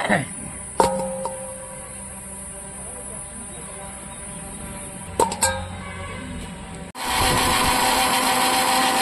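A mixer grinder grinding spices for cooking meat starts up suddenly near the end and runs as a loud steady whirring roar, after some clinks and knocks of the jar being set up.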